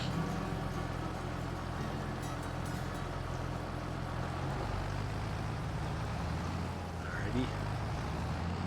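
Steady low engine drone of a tractor in the Farming Simulator video game, running continuously at a constant pitch, with speech over it.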